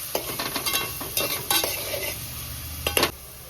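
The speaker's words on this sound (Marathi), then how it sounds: "चांगला लालसर व्यवस्थित भाजून घ्यायचा कांदू नरम होईपर्यंत" Onion fries in a pan for a crab curry, crackling softly as a spatula scrapes and stirs it in several quick, close strokes against the metal, with no voices.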